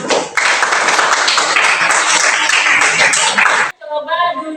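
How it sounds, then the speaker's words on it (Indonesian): Dense, loud classroom applause as students clap for a group after a water-clearing science activity, steady for over three seconds before stopping abruptly, followed by a brief voice. "Tepuk tangan untuk kelompok"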